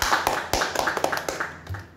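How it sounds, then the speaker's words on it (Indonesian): Applause at a campus event for new and final-year students, a sparse patter of hand claps with distinct individual slaps in an irregular rhythm, fairly faint and close. "Tepuk tangan dulu dong untuk kita."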